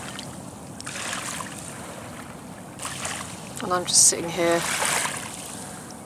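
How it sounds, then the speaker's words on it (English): Water laps gently on a small beach on a bird island, soft, steady and fairly faint under light wind, with someone talking quietly over it and a brief bird call partway through. "listening to this very relaxing sound of the water lapping up on this little beach."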